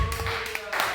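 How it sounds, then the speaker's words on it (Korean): A church congregation claps during a Korean Thursday worship service, a short burst of clustered claps in a room over a faint sustained tone, with a voice briefly heard. "하나님께 영광의 박수."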